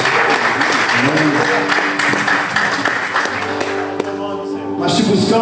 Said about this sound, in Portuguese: Por isso eu peço a você que pode, aplauda o Senhor